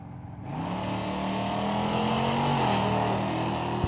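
At a drag-racing event, an Oldsmobile Omega and a Challenger launch together, engines roaring loudly as they accelerate hard in rising revving pitch and then hold a sustained high-powered drone.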